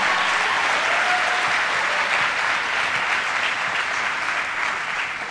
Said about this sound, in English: we can have a round of applause for that